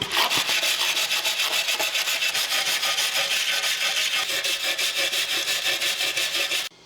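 A stainless steel wire brush scrubs rapidly back and forth over metal on a Datsun 520 rebuild, a loud, dense rasping rhythm of quick even strokes close to the ear, with no talk.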